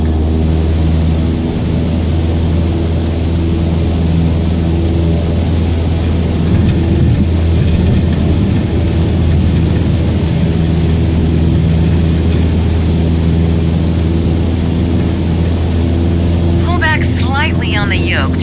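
A light aircraft engine drones steadily at full throttle while climbing in Microsoft Flight Simulator 2020, a loud continuous hum with strong low harmonics throughout, and a voice speaks briefly near the end.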